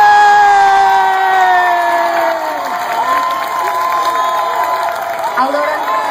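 A loud crowd at a singing performance in Argentina claps and cheers continuously, with whoops and shouts over a sustained held tone.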